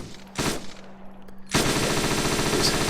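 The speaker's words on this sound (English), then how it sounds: "got a very decent high rate of fire, so a very high rate of fire. I love those shell casings." A Canadian-modified M249 machine gun fires in the video game ArmA 3. A short burst comes first, then after a pause a loud, sustained rapid-fire stream runs to the end, close and dense, with no talking.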